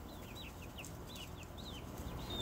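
Backyard chickens in an outdoor aviary cluck and peep in short, repeated upward calls over a steady background hum, moderately close, with no talking.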